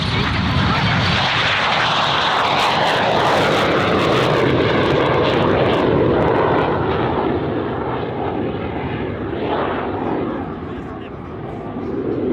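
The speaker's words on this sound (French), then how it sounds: "vous allez assister à un touch and go, c'est-à-dire qu'on va tout juste poser les roues de l'avion sur la piste" A Sabre jet doing a touch-and-go at the Gap-Tallard air show: a loud, close, sustained broadband roar that stays steady, then eases slightly near the end, with possible crowd or commentary noise mixed in.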